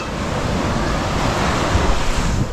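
Steady broadband sea waves rolling in on a muddy, rockless fishing shore, mixed with wind buffeting the microphone, a continuous even wash with no talk.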